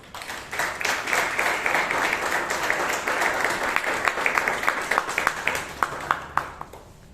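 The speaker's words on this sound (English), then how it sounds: "Can we give him a round of applause?" Members at a Toastmasters club meeting in Bangalore giving a round of applause, a dense burst of clapping that swells and then thins to a few separate claps before fading.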